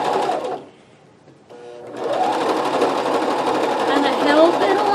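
A sewing machine runs a zigzag stitch across a quilt made from jeans, loud and close, breaking off briefly before starting again and whirring steadily to the end.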